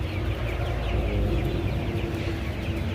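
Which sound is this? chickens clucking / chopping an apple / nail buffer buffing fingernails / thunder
chickens clucking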